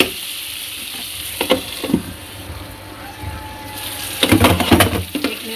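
Dry pointed gourd and potato sabzi seasoned with kasuri methi is stirred in a pan, with a steady close sizzle, scraping passes and a few sharp utensil knocks near the end.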